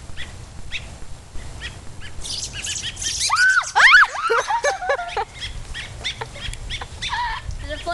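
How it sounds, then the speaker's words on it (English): Baby birds chirping in a burst of high, thin calls outdoors during a bird rescue, near and fairly loud, with people's voices around the chirps. "the baby birds are right over there"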